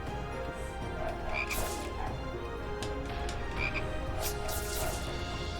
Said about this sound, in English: And frogs.